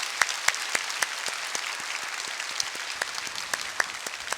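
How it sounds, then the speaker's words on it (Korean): A church congregation at a Baptist service applauds in encouragement, a continuous crowd clapping with sharp individual claps standing out, sustained for several seconds without speech. "우리 격려의 박수 한번 할까요?"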